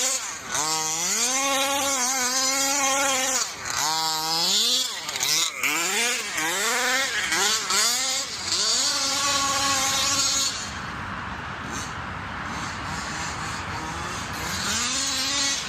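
A methanol-fuelled engine built with a ported Kraken Velsa throttle body, running short on fuel: loud rising-and-falling revs surge repeatedly, then stumble into a rough, lower, uneven drone for the last few seconds.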